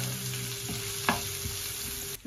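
Onions and torn bay leaves fry in a pan with a steady close sizzle, punctuated by a few light stirring clicks and scrapes, no voices.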